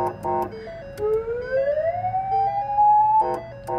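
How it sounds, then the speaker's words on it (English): A 2013 Police Interceptor siren whoops upward in a rising wail, framed by short electronic yelps at the start and end, loud and close. "Siren's right here."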